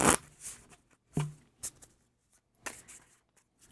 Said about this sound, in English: We will take our well deck, and let's give that a very quick shuffle here.